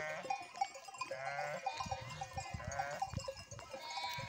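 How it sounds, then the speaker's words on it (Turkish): Tailless sheep bleat in overlapping, wavering calls at a moderate distance, with a steady outdoor hum underneath and no voices. "Bak şu meleğen koyunlar,"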